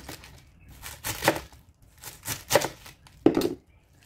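Knife slicing through cabbage on a cutting board in a home kitchen, a few separate crisp chopping cuts spaced about a second apart, close and fairly loud with quiet gaps between.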